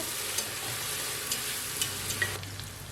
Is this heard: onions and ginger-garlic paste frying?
yes